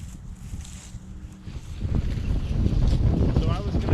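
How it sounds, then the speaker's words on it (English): Strong wind buffets a microphone outdoors at a state forest campsite, a rumbling low roar that swells and grows louder and more constant toward the end. "it's so windy right now"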